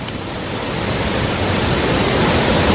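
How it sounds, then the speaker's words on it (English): A waterfall near caves in an audio drama scene rushes as a loud, steady wash of broadband noise that swells slightly and carries on alone without voices. "Quite a waterfall."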